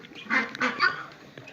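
Broiler ducks on an agro farm give a few short, nasal quacks and honks in quick succession, close by and moderately loud, with a brief quiet stretch afterward.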